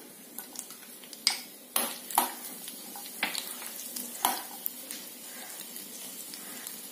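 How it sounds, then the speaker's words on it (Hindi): Garlic frying in hot ghee for a tadka for UP-style chokha-bati and handi daal, a soft steady sizzle broken by several sharp clinks of a utensil against the pan. "इसमें डालेंगे लहसुन,"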